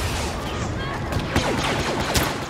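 Blaster gunfire in Star Wars Battlefront, dense rapid bursts of laser shots crackling continuously in a busy multiplayer battle, loud and close.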